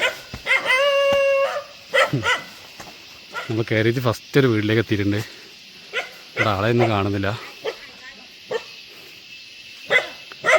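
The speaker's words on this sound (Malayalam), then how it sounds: "വീടുകളൊക്കെ ഉള്ള ഏരിയയൊക്കെ എത്തിയിട്ട് നായെ കുരക്കുന്നുണ്ട്." Dogs in an isolated hillside tribal village in Wayanad let out a few barks and a howling yelp, moderately near, in short bursts between and under a man's speech.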